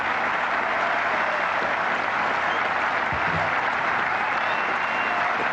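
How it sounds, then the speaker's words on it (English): A cricket crowd at a 1990 England versus India Test match applauds a batsman reaching 150, a dense, steady wash of clapping that fills the ground throughout. "Suddenly the ground is filled with applause, as it always was."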